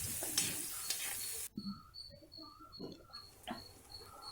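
Finely chopped garlic and sausage fry in a pan for macaroni pasta, giving a soft sizzling hiss at first, then quieter intermittent scraping and tapping as the mixture is stirred, all faint and close.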